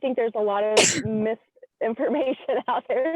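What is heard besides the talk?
sneeze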